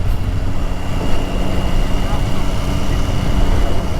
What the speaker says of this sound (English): Oh, I love that exhaust.